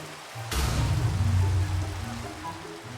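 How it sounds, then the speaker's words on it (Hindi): Rain begins falling in the Minecraft video game, a steady wash of rainfall that sets in abruptly and stays loud and close, alone with no voices. "अभी बारिश भी स्टार्ट हो गया।"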